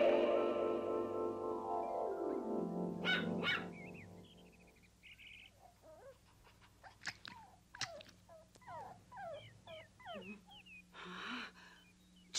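A small dog whimpers and yelps in a series of short, high cries over a low hum, after a falling whine at the start.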